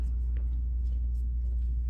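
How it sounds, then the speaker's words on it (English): A garbage truck rumbles down a street, a steady deep low drone that fills the whole stretch without pause, close and heavy with no voices over it. "Lisa awakens to the sound of a garbage truck thundering down the street."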